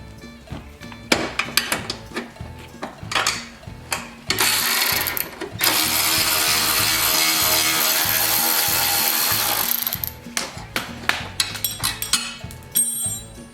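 A shallow socket loosens nuts on a Toro CCR 3650 snowblower, with a long steady rasping run of ratchet or power-tool noise between shorter clicking and knocking bursts, close up with no talk.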